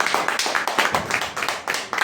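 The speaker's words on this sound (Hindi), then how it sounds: "एक बार जोरदार ताली होना" A small audience claps at a marketing meeting, a brief burst of steady, close, moderately loud clapping with no voices over it.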